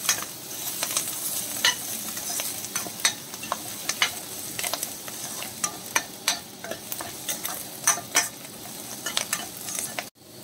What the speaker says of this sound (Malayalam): ഇതും കൂടി ചേർത്തതിന് ശേഷം നന്നായിട്ട് വഴറ്റാം